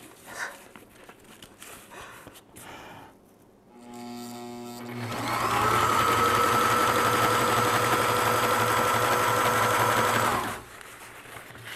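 A sewing machine stitches nylon fabric for a teardrop camper's galley end wall, starting with a short slow run and then settling into a loud, steady, continuous whir for several seconds before stopping.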